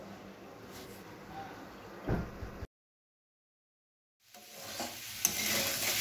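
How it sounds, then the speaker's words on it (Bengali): Garlic and poppy seed paste stir-fried in a pan over low heat, with a soft sizzle and scraping stirs near at hand, broken by a complete silence of about a second and a half before the frying sound returns louder. "যতক্ষণ না কাঁচা রসুনের গন্ধ চলে যায় ততক্ষণ এটাকে কষতে হবে।"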